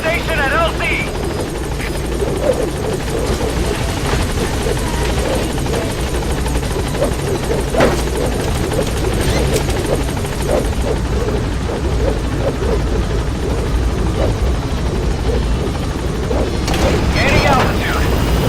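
Pequod, a helicopter in the Metal Gear Solid V video game, arriving at a landing zone: a loud, steady rotor thrum throughout, with radio-style voices and game effects over it.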